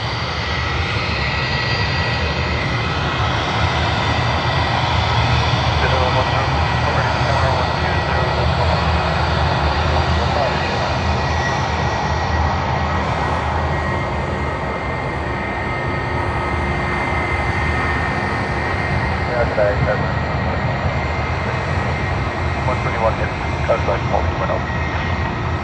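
A Qantas QF7 airliner pushes back at Sydney Airport, heard as a steady, loud, broadband jet engine roar with a continuous whine that persists throughout, mixed with airport ambience and faint voices.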